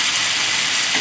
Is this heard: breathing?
no